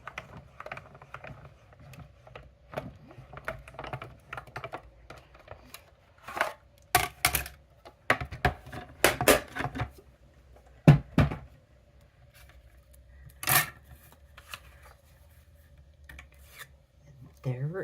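A die cutting machine feeds stacked cutting plates through its rollers while making a heart-shaped card: quiet stretches broken by clusters of loud, rasping grinding bursts, close and uneven, with faint background noise between them.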